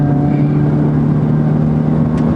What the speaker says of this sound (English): being the GTI model, we better see what it's like when you put your foot down